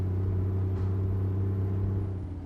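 A bus engine in a driving video game drones steadily at low pitch, a constant loud rumble with a faint high whine above it and no talking.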